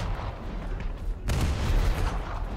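Naval gunfire from the HMS Leopard frigate in War Thunder: one loud, heavy boom bursts out midway over a steady rumbling battle background.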